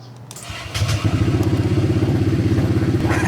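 A motorcycle engine fitted with a TRC Racing aftermarket power pipe exhaust, not remapped, fires up and settles into a rapid, throaty idle, loud and close, its exhaust pulsing in an even, rumbling beat.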